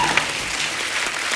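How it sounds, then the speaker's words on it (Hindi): Audience applause breaks out for actor Akshay Kumar on a comedy talk show stage, a dense, steady burst of clapping from a studio crowd with no talk over it. "एक बार जोरदार तालियां हो जाएं अक्षय पाजी के लिए।"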